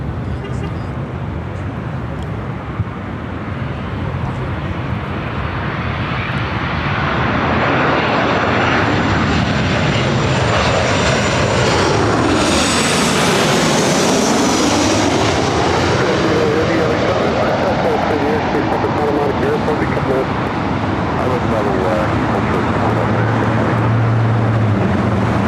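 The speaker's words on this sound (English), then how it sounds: "We also have United Airlines Flight 39 taxiing to the runway for takeoff." A United Airlines jet taxis toward the runway for takeoff, a loud steady engine roar that swells and sweeps through a rising-and-falling whine as it passes close by, then holds a sustained rumble.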